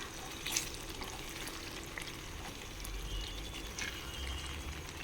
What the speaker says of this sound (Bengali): ঢাকনাটা খুলে নেব, তো একটু নাড়িয়ে দেব।